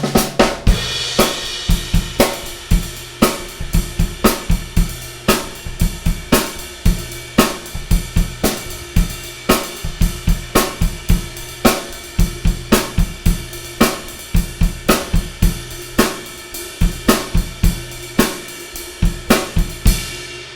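A drum kit plays a steady groove, the ride cymbal tapping a repeating pattern over regular kick and snare hits, loud and close with no voices.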